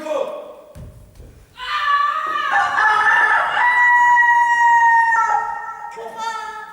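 A rooster crowing sound effect plays loud and close during a school stage production of Peter Pan, one long drawn-out cock-a-doodle-doo call after a brief lower sound, with no talking over it.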